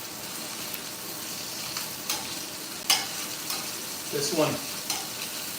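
Leftover rare steak reheating briefly in a hot pan sizzles with a constant close hiss, with a few utensil scrapes and clinks on top and a short spoken phrase partway through.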